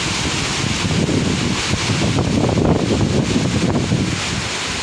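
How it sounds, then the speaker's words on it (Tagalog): Strong wind after Typhoon Kristine buffets the microphone in a steady, loud rushing roar with gusty fluctuations and no voices. "malakas pa yung hangin mga idol"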